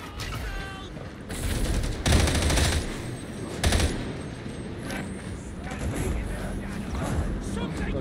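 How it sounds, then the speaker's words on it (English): Machine gun firing in the video game Warhammer 40K Darktide, bursts of rapid shots scattered among other combat noise, moderately loud and fairly close. "This is the first time I've used a pure machine gun in this game."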